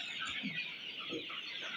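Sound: desi chickens clucking on a farm

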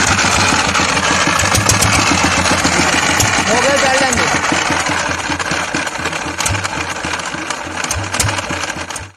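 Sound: water pump engine running in village

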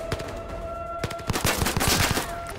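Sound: sniper rifle shots in the VR video game Zero Caliber

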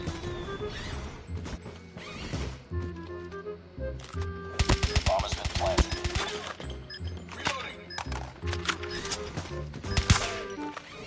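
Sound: Man O War gunfire in video game Call of Duty Mobile

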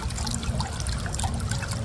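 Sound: shaking salt water in a bottle

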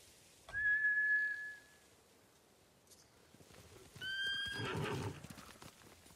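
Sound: spooked samurai horses neighing and galloping, from a video game

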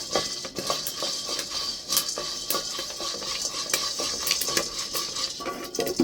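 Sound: stirring popping corn in a pan

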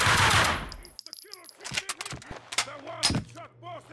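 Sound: gunfire from the video game Max Payne 2

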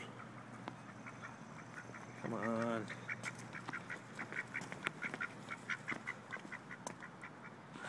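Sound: ducks quacking

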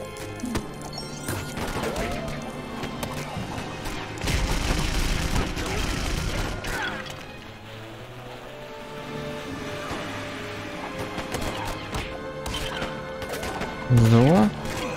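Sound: gunshots in a video game

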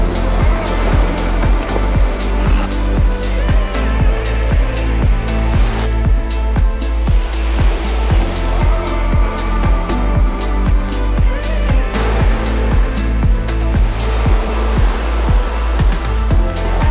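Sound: sea waves on the shore

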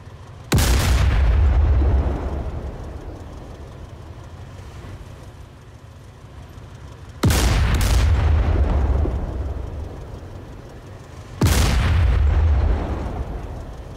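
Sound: mortar team artillery fire on SAM site in DCS video game

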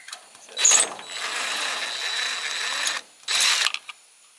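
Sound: ratchet removing screws from a light fixture

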